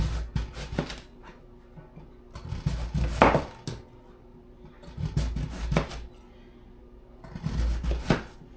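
Turnip and carrots being cut on a board, with bursts of knife chopping at close range, several rapid strokes in each burst, separated by quieter pauses.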